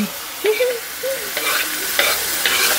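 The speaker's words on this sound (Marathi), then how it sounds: "कांदा लाल झाला. आता टोमॅटो टाकूया." Chopped tomatoes tipped onto onions frying in a pan for a cashew gravy, giving a steady close sizzle with a few stirring scrapes, while a voice briefly murmurs in the background.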